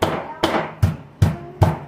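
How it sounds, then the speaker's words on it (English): Hammer laid flat pounding chicken cutlets under plastic wrap, five evenly spaced sharp thuds roughly every half second, each a close, dull smack with a brief decay, no talking. "And just hammer it down like that just a couple times."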